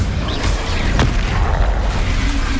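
An Incendio fire spell cast in the Hogwarts Legacy video game, a loud low rumbling blast with a sharp crack near the middle, heard alone without talk.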